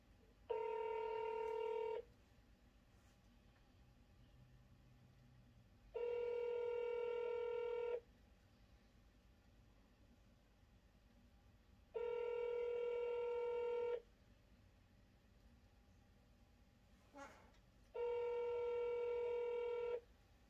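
Telephone tones on a call to a number: four evenly spaced two-second electronic tone bursts with quiet gaps between them, clear and steady, with no talking.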